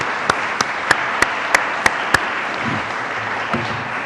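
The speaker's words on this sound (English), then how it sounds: "we should all give her a round of applause for the effort she's put in here" An audience applauds an exhibition team leader at a Shanghai celebration event with Mayor Newsom, a steady wash of clapping with a few sharp, louder claps standing out at regular intervals over about four seconds.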